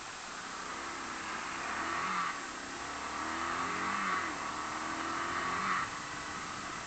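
A Honda CBR 250 motorcycle with a strange noise revs its engine in three slow, even swells over a constant idle, heard at moderate distance without talk.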